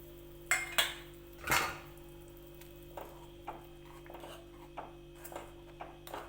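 Crushed peanuts being stirred into boiling pithla in a pan: a few sharp spoon-on-pan clinks and scrapes up front, then softer, evenly spaced stirring knocks over a quiet steady background hum, with no talk.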